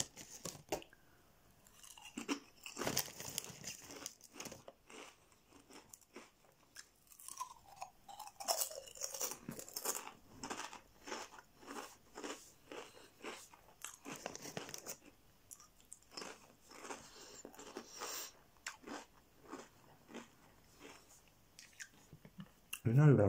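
Crunchips spare ribs flavour barbecue crisps are eaten up close, with loud crunching bites and chewing in irregular bursts, separated by short quiet gaps.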